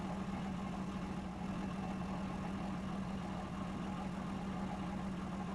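Idling Leopard tank engine in a combat video game, a steady low rumbling drone with a constant throb, fairly quiet and unchanging, no voices.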